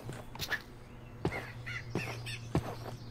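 Crows in a zombie apocalypse video game give several separate harsh caws, spaced about a second apart, moderately near over a quiet ambient hum with a few fainter chirps between them.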